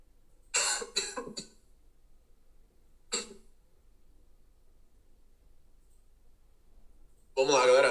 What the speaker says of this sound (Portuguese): Deu uma tossida aqui.